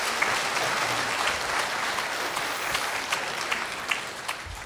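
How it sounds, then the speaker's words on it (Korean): A church congregation applauds together, steady dense clapping from a crowd indoors, continuous and fairly loud throughout with no talk over it. "여러분 크게 박수 한번 해주세요"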